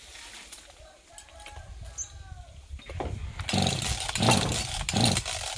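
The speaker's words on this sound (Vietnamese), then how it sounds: "Rồi, chúng mình kéo cái máy cưa lên nghe các bạn." A petrol chainsaw is started up to cut a golden wattle tree, faint at first with birdsong, then its engine roars up loudly in rising, uneven bursts.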